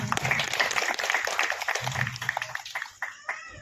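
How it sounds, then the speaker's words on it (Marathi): An audience applauds to honour a family's achievements, with steady clapping throughout that thins out toward the end, and bits of talk or murmur come through underneath. "तरी सर्वांनी त्या सगळ्यांसाठी टाळ्या वाजवाव्या."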